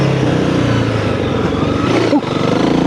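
Honda CRF300L motorcycle engine running and revving on dry patches of an off-road trail, a loud steady close drone throughout with a brief throttle dip and pickup near the end.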